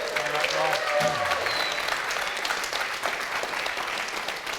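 Audience at RuneFest 2014, an Old School RuneScape fan convention, applauding and cheering in a steady, dense wash of clapping that fills the room, with a voice speaking over it near the start.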